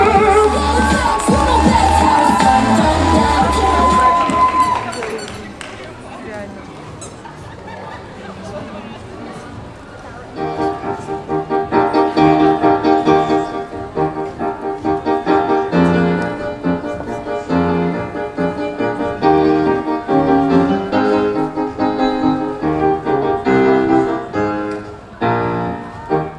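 Audience at a cosplay-festival karaoke contest claps and cheers in a loud, dense burst for about five seconds, then fades as backing music for the song starts and carries on.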